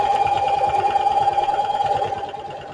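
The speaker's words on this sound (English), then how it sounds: "I know this sewing machine is louder than the other one" A sewing machine runs steadily at a fast pace, its rapid mechanical stitching rhythm humming close and loud throughout, easing slightly near the end.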